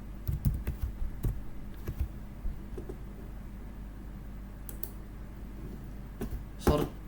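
Keys clacking on a computer keyboard, including presses of the tab key, come in short scattered bursts of clicks separated by quiet pauses, with a louder flurry near the end.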